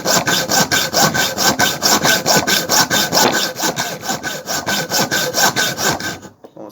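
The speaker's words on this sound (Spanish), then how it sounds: "Notarán que por el ruido del arco de sierra que agarré un bulón con un poco de cierto grado" A hand hacksaw cuts through a hard steel bolt with steady, loud back-and-forth strokes in an even rhythm, close up, ending as the sawing stops.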